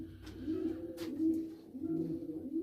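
Homing pigeon cocks coo in a loft, low rolling throaty calls repeating in a steady rhythm close by, with a faint higher chirp midway.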